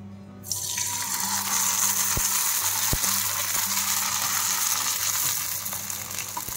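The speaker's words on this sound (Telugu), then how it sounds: "నూనె సిమ్లో పెట్టుకునే వేసుకోవాలి, లేకపోతే ఇవి బంగాళదుంప వేయడం వల్ల తొందరగా మాడిపోతాయి." Potato and sago vadiyalu, sun-dried fritters, drop into oil kept on a low flame and burst into a loud, steady sizzle that continues without a break, with a few faint clinks and no talking.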